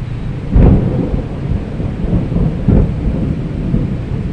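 Heavy rain pours steadily while two deep rumbles of thunder roll in, one early and one a couple of seconds later.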